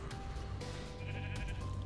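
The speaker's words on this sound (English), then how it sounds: "Got a couple of sheep that I caught that was roaming around the area." Sheep bleating in the video game Minecraft, several repeated short bleats over a steady farm ambience, fairly close and clear with no talking.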